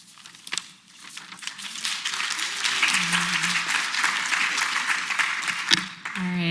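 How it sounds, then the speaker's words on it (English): Audience applause at a health literacy symposium, a steady dense clapping from a room of people that swells after the first second and continues evenly to the end. "a final round of applause for my amazing colleagues for their assistance today"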